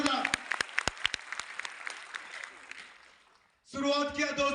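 An audience applauds with sharp individual claps that thin out and fade over a few seconds, followed by a burst of loud amplified voice and music.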